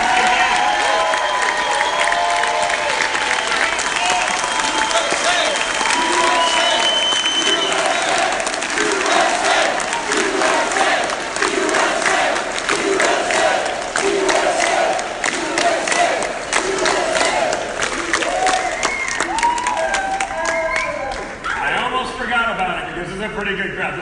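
A large political rally crowd applauds and cheers continuously, loud and close, with whoops and shouted voices throughout before the noise starts to ebb near the end.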